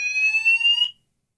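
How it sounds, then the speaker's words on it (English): A fire alarm being tested blares a loud, steady electronic tone at close range for almost a second, then cuts off abruptly into silence. "They're testing the fire alarm."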